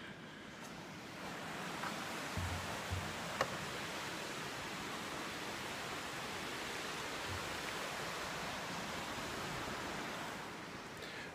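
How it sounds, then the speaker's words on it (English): A river flows beneath a covered bridge with a steady, broad rushing wash of water, constant and moderately loud, with a few faint knocks and no speech. "I'm actually going to show you the river that it actually spans."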